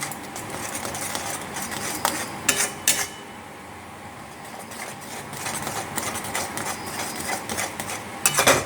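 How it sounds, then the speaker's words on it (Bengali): A spoon stirs rice flour into a sweet pitha batter in a bowl, with a continuous scraping and clinking texture and a few sharper knocks against the side. It is close up in a home kitchen. "আমি অল্প অল্প করে এই চালের গুঁড়োটা মিশিয়ে দেব।"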